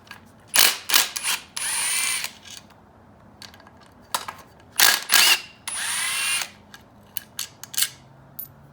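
A ratchet wrench clicks in several quick bursts while taking a bracket off a Yamaha YFZ450 engine during teardown, fast pawl ratcheting separated by short pauses, up close and with no talking.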